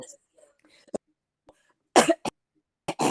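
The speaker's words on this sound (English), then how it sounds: "I still have that little cough" A few short, sharp coughs burst out in quick succession, close and fairly loud, separated by brief quiet gaps.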